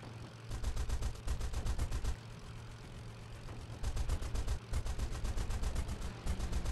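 Rapid machine-gun bursts from the Wings of Duty arcade game, sounding as loud rattling volleys in several long stretches, with brief pauses between them and a low engine drone underneath.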